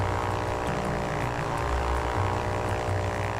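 A propeller plane engine in the video game Ultrawings drones loudly and steadily as the throttle opens, a continuous buzzing hum with no pauses or talk.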